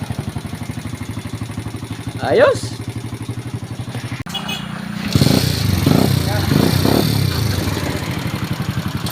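A Rusi motorcycle engine with an electrical fault, after stalling on the road, chugs at a steady idle, then catches and revs into a rougher, louder running sound, with a voice over it briefly.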